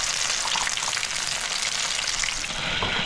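Steady, loud sizzling and crackling of chicken frying in hot oil, continuous with no voices.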